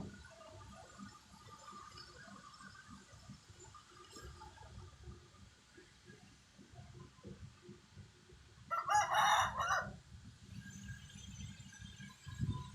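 A rooster crows once in a short, shrill burst partway through, standing out over a steady low rumble of background noise.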